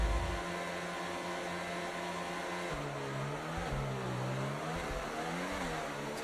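Racing car engines in a video game rev at the start of a Canadian Grand Prix race. A loud, continuous engine drone holds throughout, its pitch rising and dipping in sweeps as the throttle changes. No one speaks over it.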